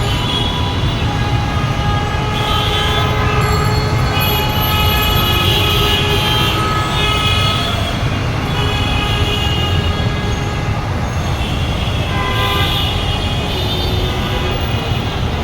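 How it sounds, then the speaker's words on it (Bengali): Heavy evening traffic roars without a break on a jammed Dhaka road beside a metro station, where buses, private cars and motorcycles idle and rumble loudly. Several drawn-out horn blasts rise above the constant din. "বাস রয়েছে প্রাইভেট কার রয়েছে মোটরসাইকেল রয়েছে আপনারা দেখুন প্রচণ্ড যানজট"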